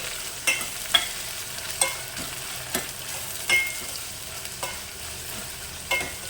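Onions with curry leaves frying until brown, a gentle steady sizzle broken by regular spatula scrapes and taps against the pan, near and moderately loud, no voices.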